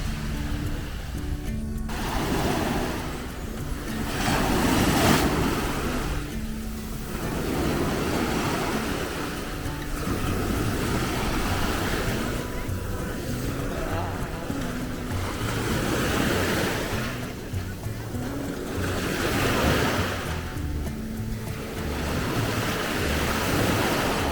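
Waves roll onto a public beach in Saint-Tropez, surging and retreating every few seconds with a steady wash of surf and some wind on the microphone.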